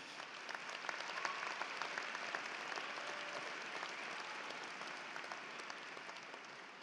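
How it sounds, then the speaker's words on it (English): Graduates at a college commencement ceremony applaud their families in an arena, a steady wash of crowd clapping that holds throughout at a moderate distance. "I would like to ask the graduates to applaud their families."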